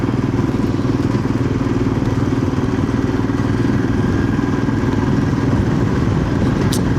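A motorcycle engine runs loud and close, its exhaust giving off a steady, throbbing idle rumble with no breaks.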